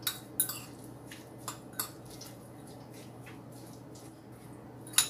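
Ingredients being mixed with a little salt in a bowl, heard as a few sharp utensil clinks and light scraping against the bowl over a soft, quiet background.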